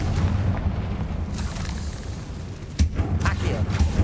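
A Confringo blasting curse explodes in Hogwarts Legacy, giving deep booms over a rumbling game soundtrack, with a sharp burst partway through.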